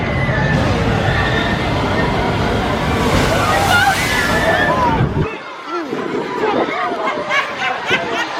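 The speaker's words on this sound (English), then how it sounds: "Oh, we in the splash zone." Water splashes and sloshes over riders in the splash zone of an amusement park ride at Hershey Park, loud and broadband, with excited voices talking and shouting throughout.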